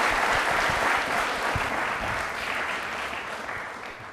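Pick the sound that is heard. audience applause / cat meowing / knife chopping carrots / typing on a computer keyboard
audience applause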